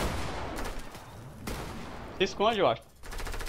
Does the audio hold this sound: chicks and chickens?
no